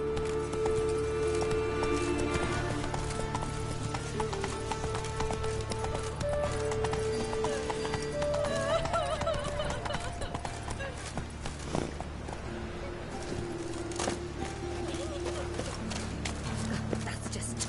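Hoofbeats of a horse in a video game, a steady clip-clop trot carrying on for the whole stretch over a dense bed of game music and ambience, with someone talking at points.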